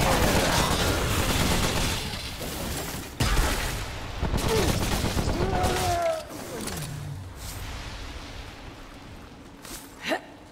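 Sustained gunfire and explosive bursts rattle loudly in Remnant: From The Ashes, a dense volley that eases after about six seconds, with shouted voices mixed in and a short sharp blast near the end.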